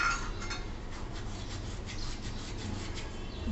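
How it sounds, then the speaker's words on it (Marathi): Carom seeds (ajwain) are crushed between the palms over a moong dal coriander fritter mixture in a kitchen, making a soft, steady dry rubbing rasp that stays fairly quiet and continuous. "हा ओवा पण छान हातावर चुरून टाकायचा"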